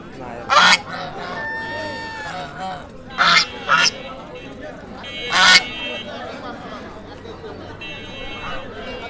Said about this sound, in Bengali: আপনারা দেখতে পাচ্ছেন এই যে হাঁসের হাট।